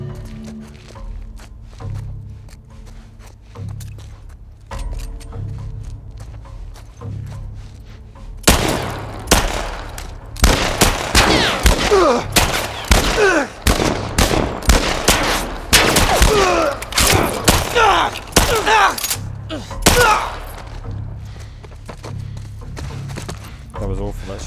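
Shootout in The Last of Us, a sudden dense barrage of rapid gunshots erupting midway and pounding for about ten seconds before tapering into scattered shots, with voices talking before and after.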